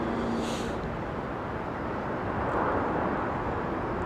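A PIA airliner arrives at London Heathrow Airport, its broad, steady jet roar holding close and loud throughout, with no pauses or talk.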